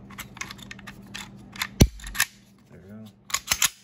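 A part being snapped into a Heckler & Koch HK45 V1 pistol during reassembly: a sharp, loud metallic click stands out among several lighter handling clicks and rattles, with someone talking quietly in between.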